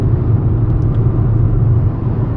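A car drives across a long bridge in Scandinavia, giving a steady, loud low rumble of road and engine noise that holds evenly throughout with no voices.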